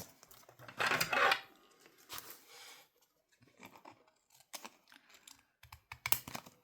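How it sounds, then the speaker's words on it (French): Scissors or a blade trims the overhanging excess from a winter shaker ATC scrapbooking card, a few short quiet snips and scrapes with pauses between them, close up. "j'ai plus qu'à venir découper ce qui dépasse"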